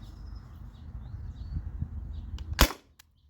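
A modified T4E TR68 air pistol with a 1mm drilled restrictor fires once on CO2, a single sharp, loud crack over a low background hum, with faint clicks just before and after.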